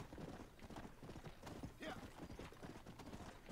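Rapid clip-clopping of horse hooves in a steady galloping rhythm, faint and continuous, with a brief whinny-like tone partway through, in the video game Red Dead Redemption.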